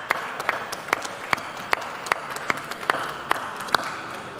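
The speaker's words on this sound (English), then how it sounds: "under a big round of applause, please welcome our winners of the GT 500 qualifying race, Wanda." A sparse audience claps at the ADAC SimRacing Expo stage: a dozen or so distinct, evenly spaced claps stand out over a steady hall murmur.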